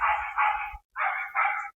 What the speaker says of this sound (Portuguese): esses cachorros parar de latir. Vocês estão ouvindo?